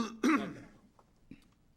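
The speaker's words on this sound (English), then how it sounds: "sorry, I was coughing" A single sharp cough or throat clear near the start of a city council meeting, followed by quiet room noise and a faint knock.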